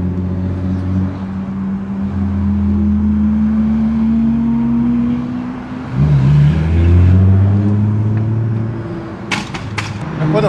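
A Lamborghini engine at a busy evening car meet holds a loud, steady drone, then dips briefly and surges into a harder rev, with sharp crackling pops near the end.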